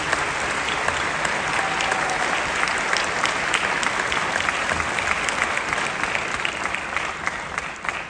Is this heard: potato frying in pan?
no